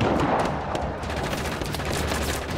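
Rapid gunfire in the open-world action game Just Cause 3, a continuous dense volley of shots with a booming, crackling edge, loud and steady throughout the short burst.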